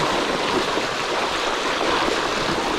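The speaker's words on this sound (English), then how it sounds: "Had so much rain and all these streams are just totally full." A small stream swollen full after heavy winter rain rushes without pause, a dense, close wash of water holding an even level throughout.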